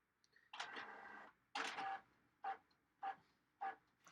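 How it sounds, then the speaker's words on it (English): A printer runs in bursts: a long mechanical whirr, then a second, followed by three short, evenly spaced pulses, fairly faint and with no talking over it. "My printer's going."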